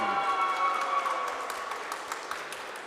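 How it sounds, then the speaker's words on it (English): A Lithuanian crowd cheers and claps at a women's competition event as a finalist walks up to the table, a broad sustained roar that slowly fades, with scattered sharp claps and whistles. "Lithuanian crowd cheering as Vaikute walks up to the table"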